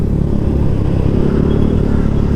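A motorcycle running with its exhaust silencer removed, giving a loud, close, deep and steady rumble with a rough, throbbing texture throughout.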